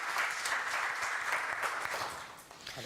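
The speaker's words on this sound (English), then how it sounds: "I think she deserves a round of applause for that." Steady audience applause after a presentation at an award event, a dense even patter of many hands clapping that holds for about three seconds and eases slightly near the end.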